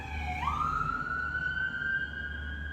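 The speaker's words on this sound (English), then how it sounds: "The old ambulance." An ambulance siren wails outside, a single rising sweep that settles into a sustained tone, moderately loud behind low background hum.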